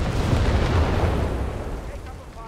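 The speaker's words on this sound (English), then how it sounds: "Blasting buildings here" Heavy explosions from buildings being blasted apart in the strategy game Company of Heroes 3, a deep rumbling boom that swells at once and then slowly decays, loud and close.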